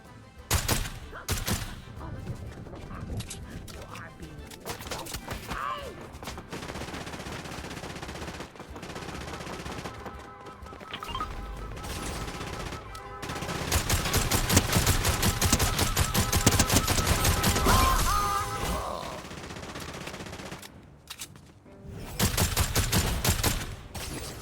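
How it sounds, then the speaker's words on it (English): Rapid bursts of rifle and automatic gunfire in the video game Fortnite, crackling repeatedly at varied distances, dense and loud through the middle stretch, with short pauses between volleys. "So there's gunfire from over here."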